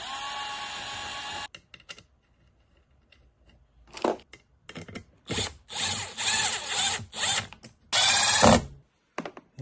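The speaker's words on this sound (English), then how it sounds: "we're just gonna run a drill through them." A power drill whirs in several short bursts separated by brief pauses, loud and close, with a harsh mechanical grinding edge, drilling out four holes while building a compact diesel heater.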